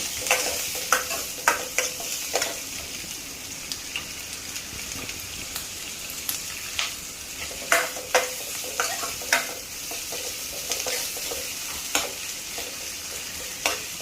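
Onions, garlic and ginger sautéing in a pan for a dry chicken dish, a steady close sizzle with repeated spoon taps and scrapes at irregular intervals throughout.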